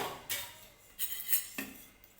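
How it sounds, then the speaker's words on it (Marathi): A metal spoon clinks a few times against a pan while oil is added for roasting coconut for chutney, three or four short, close taps with quiet pauses between. "तर मी याच्यामध्ये थोडंसं चमचा तेल टाकते"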